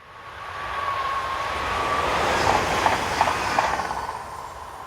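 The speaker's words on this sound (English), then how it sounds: "Looking south we see Z27546, forming train 91508, the 1650 from Mâcon to Chalon local service." French electric multiple unit Z27546 passing on a local Mâcon to Chalon-sur-Saône main-line service, a broad rolling rumble that swells steadily to a peak with faint clacking wheel beats, then eases slightly, with no voices.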